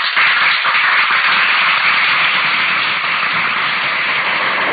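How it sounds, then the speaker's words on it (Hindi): A class of schoolchildren claps together in a dense, steady wash of applause that stays loud and even for about five seconds, with a thin, band-limited sound. "सारे बच्चे क्लैपिंग करेंगे"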